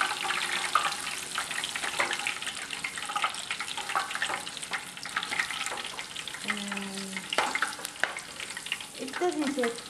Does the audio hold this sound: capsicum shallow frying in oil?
yes